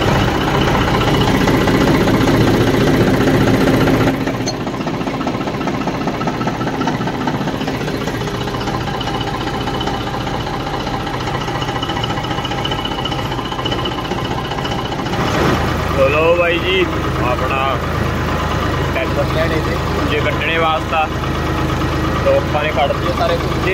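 Tractor engine on a farm field running with a steady low mechanical drone throughout, close and fairly loud, with a change in tone partway and some clatter and a voice over it later.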